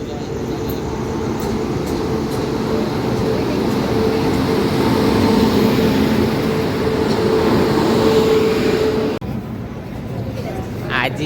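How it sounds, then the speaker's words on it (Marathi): A train rolls into a station on a Mumbai-to-Konkan trip with a loud, continuous rumble and clatter of carriages. The rumble shifts and thins toward the end, and indistinct voices are mixed in. "आजीची गावाला जायची ट्रेन आली आहे"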